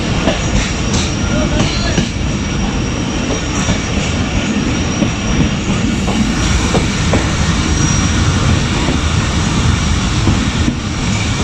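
The Shalimar Express pulls into platform 3 at Multan railway station, a loud, continuous rumbling roar of the train that holds steady throughout with no break.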